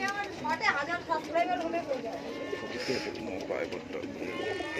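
Fancy pigeons coo in a loft, soft rolling calls repeating close by while someone talks over them throughout.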